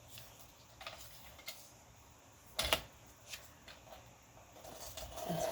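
A blade slices through paper ephemera in a few quiet, scratchy strokes, one sharper cut standing out amid faint rustling, close and soft.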